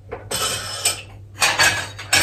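Dishes and cutlery clatter and clink while a dishwasher is emptied, with several bright, close bursts of clanking separated by brief pauses.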